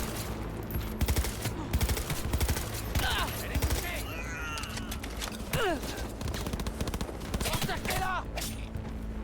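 Rapid bursts of automatic gunfire in the video game Cyberpunk, repeated loud rattling volleys with game effects, while players talk over the action.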